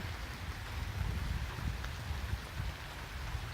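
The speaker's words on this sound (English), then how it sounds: "This is the first little bit of rain since I got the gutters up." Light rain falls on newly installed cheap gutters, a steady soft patter and hiss with low rumbly texture, continuous and fairly quiet throughout with no voices.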